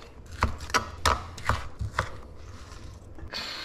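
Knife chopping food such as sausages in a Roblox cooking game, with six or seven distinct, evenly spaced chops at moderate loudness, close and without speech.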